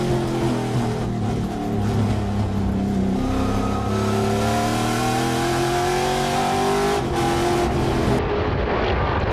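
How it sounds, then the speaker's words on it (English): Trans Am TA2 race cars, including a black Mustang and a yellow Camaro, roar around Laguna Seca, with loud, sustained engine notes rising and shifting as several cars pass close by, no voices heard. "Chris Evans in that black XGT Mustang in the mix here with the Big Machine Vodka Spike Coolers TA2 cars"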